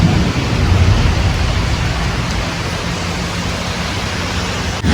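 Heavy rain pouring steadily in Florida on a cloudy evening, a dense, loud, unbroken wash of noise with no pauses and no voices.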